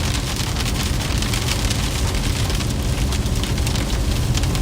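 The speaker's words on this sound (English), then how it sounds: "Nothing like a burst of heavy rain while you're driving into the sunshine." Heavy rain drums steadily and loudly on a car as it drives through a supercell storm cell in northeast Kansas, a dense continuous hiss with no voices.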